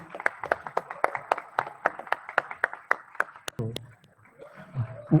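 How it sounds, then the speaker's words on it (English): Audience applause at an awards ceremony's closing, steady sharp claps at a brisk rhythm for about three and a half seconds, then fading into a few scattered claps and brief murmurs. "let's all give them a round of applause"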